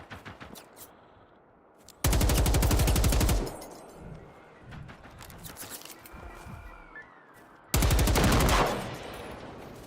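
Two long, loud bursts of machine gun fire in Generation Zero, each lasting over a second of rapid continuous shots, separated by quieter ambient game noise.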